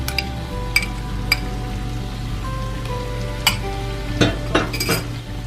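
Chilli chicken with green chillies and red chilli sauce is stirred in a pan over a low flame: a steady soft sizzle under scattered metallic clinks and scrapes of the spoon, with no voices.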